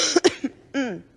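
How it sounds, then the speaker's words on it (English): A few quick, close coughs in succession, followed by a short voiced throat sound. "No, I was coughing."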